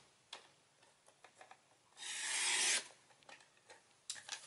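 Card stock being cut to size for handmade cards, heard as one broad scraping swipe of a paper trimmer blade lasting under a second, with lighter ticks and handling taps around it.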